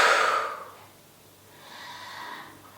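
A forceful breath pushed out during a core workout, a sharp, close exhale at the start that fades, followed by a softer breath a moment later.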